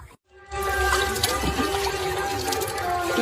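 Hot water pouring in a steady, close splashing stream that starts after a brief silent gap and runs on alone without pause.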